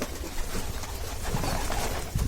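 Homing pigeons in a loft, low soft cooing murmurs repeating close by over a steady background rustle, no talk.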